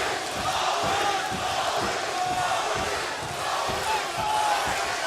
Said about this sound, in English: the crowd getting behind Smith right now. And they're chanting Maurice